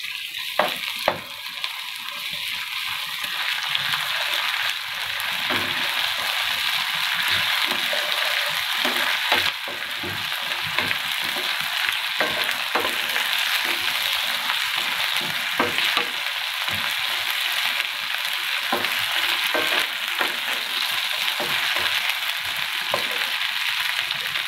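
Ginger garlic paste sizzles in a hot pan for a moong dal sabji, a steady, close, hissing fry that runs unbroken throughout, with no voices over it.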